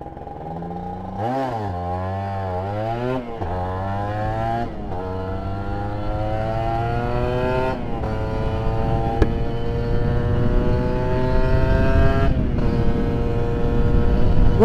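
A 2015 Kawasaki Ninja R special edition motorcycle revs up repeatedly, its raspy exhaust note rising and dropping with each throttle blip before building into a long, loud, climbing acceleration up close.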